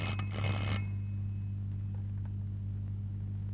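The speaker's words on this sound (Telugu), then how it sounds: "ఫోన్ ఎత్తడానికి ఇక్కడ నేను ఉన్నాను కదా" A telephone rings in a police station in a comedy scene, a bright electronic ring heard loudly for under a second over steady low hum, then only faint room hum follows.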